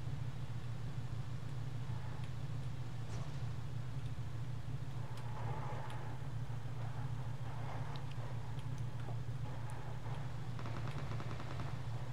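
A PUBG Mobile car engine drones steadily and loudly throughout, a constant low hum with faint scattered game effects over it and no talk.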